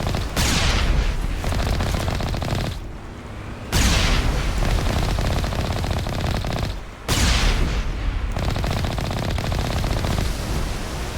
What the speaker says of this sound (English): shooting the cannon so close it's hurting my shields